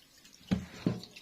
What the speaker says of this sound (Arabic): نغسل اللحمه حلو